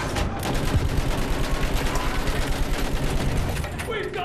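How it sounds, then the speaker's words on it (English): Rapid machine gun fire in a Battlefield 1 World War I battle, a dense continuous chatter of shots amid explosions and battlefield noise, with shouting voices mixed in. "Use that machine gun!"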